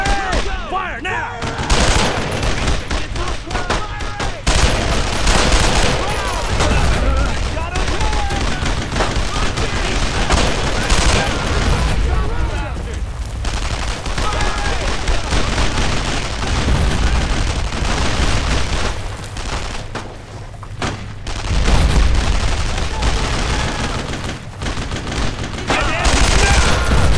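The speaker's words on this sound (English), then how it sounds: "Unload on Red! Fire now!" Sustained gunfire and battle din from the World War II shooter Brothers in Arms: Road to Hill 30, with dense rifle and machine-gun bursts and booms going on without a break. Loud throughout, with shouted voices mixed in.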